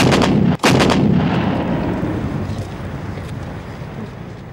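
Massed artillery, about 100 guns concentrated on one mountain objective in the Kargil fighting at Tololing, fires a heavy booming salvo, then a second blast after a brief gap, followed by a long rumbling roar that slowly fades.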